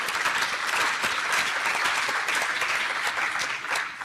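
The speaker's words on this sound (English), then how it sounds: "I want to give you all a round of applause" Audience at a scientific workshop on Earth system models gives steady applause, a dense continuous patter of many hands clapping at an even level throughout, tapering slightly near the end with no voices on top.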